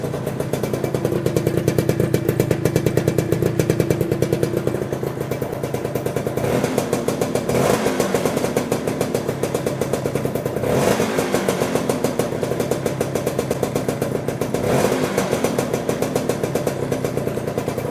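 An Orbar motorcycle engine idles steadily up close with a fast, even pulse, a light metallic rattle from loose mirror bolts riding on top and a couple of brief rises in revs.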